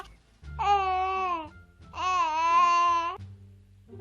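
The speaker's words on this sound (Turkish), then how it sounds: "Of oğlum sen niye ağlıyorsun" A baby cries in a Roblox life roleplay game: two drawn-out wavering wails, close and fairly loud, separated by a short pause over a low background hum.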